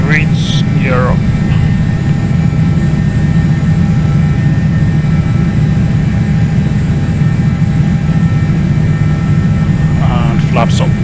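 Hawker 850XP business jet engines roar at takeoff in the Prepar3D flight simulator, a loud steady low rumble held throughout, with brief cockpit chimes near the start and end.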